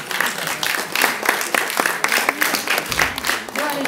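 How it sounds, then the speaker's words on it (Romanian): An audience at an international poetry festival in Reșița applauds a professor, with a sustained, dense clapping of many hands and faint crowd murmur underneath. "pe care am dorit să o aplaudăm"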